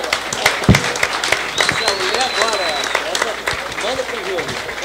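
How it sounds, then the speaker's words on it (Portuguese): Crowd at a startup panel in Rio de Janeiro breaks into sustained applause for a startup, steady clapping throughout with voices talking and calling out over it. "Salva de palmas, pô."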